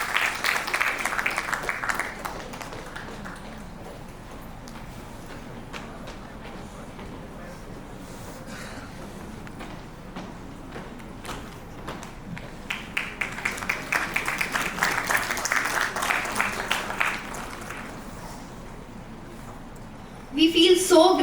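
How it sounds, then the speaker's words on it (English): An audience at an alumni meet at Guru Nanak Dev University in Amritsar claps in bursts, with dense applause at the start and again midway and faint crowd noise between. "A big round of applause for all the alumni present amongst us today."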